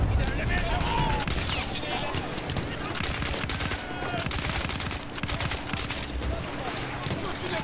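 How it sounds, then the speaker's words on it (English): Three-shot burst weapon firing in Battlefield 1 amid a dense, continuous battle of rapid gunfire and explosions, loud and chaotic throughout. "Oh, it's a three-shot burst weapon too."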